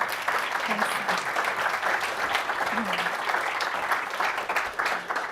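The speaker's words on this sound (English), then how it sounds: "Please give her a round of applause." Sustained applause from an audience at a nonprofit innovation talk, dense and steady for the whole stretch with a faint voice or two murmuring underneath.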